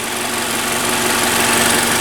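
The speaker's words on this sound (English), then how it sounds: "There's it running, very quiet." A cold 2015 Mazda 6 Touring engine idles quietly with the air conditioner and engine fan running, giving a steady, even hum throughout with no voices.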